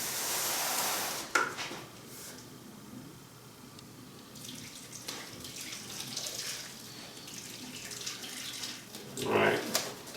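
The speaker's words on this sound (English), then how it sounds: "Now I'm just going to slowly pour it over the meat" Liquid marinade poured slowly over deer meat makes a splashing, trickling sound, with louder pours at the start and near the end and quieter dribbling between.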